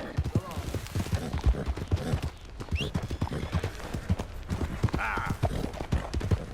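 A horse's hooves clip-clop steadily at a walk in the Red Dead Redemption 2 video game, close and continuous. A brief spoken exclamation is heard once.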